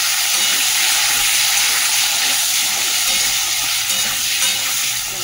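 Potatoes fry in hot oil after a cumin and bay leaf tempering, a loud, steady, close sizzle with a constant hissing texture and faint stirring movement.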